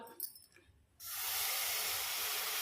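Milk pours into a hot pan of roasted vermicelli with a few light clinks, then bursts into a sudden loud, steady sizzling hiss that goes on to the end, close and with no talk.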